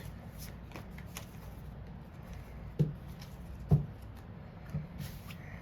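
Starseed Oracle cards are shuffled by hand, a soft continuous riffling with a few sharper slaps of the deck standing out, close and fairly quiet with no talk.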